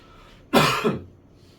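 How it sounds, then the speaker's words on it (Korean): A single harsh cough bursts out in a quiet classroom during an English grammar lesson: loud and close, with a quick second push before it fades. "왜 기침이나 갑자기"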